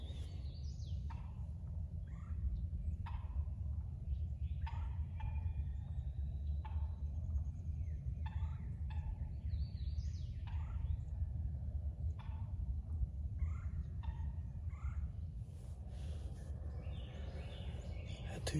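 Two wild turkey jakes gobble outdoors at close range, sounding in a series of quick rattling calls over a constant low rumble of wind or ambient noise.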